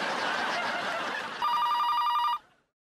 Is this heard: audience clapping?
no